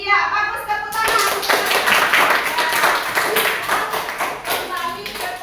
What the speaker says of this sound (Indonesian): Iya, bagus, tepuk tangan.